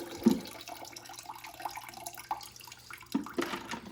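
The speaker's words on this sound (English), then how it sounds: "Now all I do is drain out the last of the dirty water." Dirty water drains out of a red-eared slider turtle's tank, a faint trickling and gurgling with a louder splash near the start and another surge toward the end.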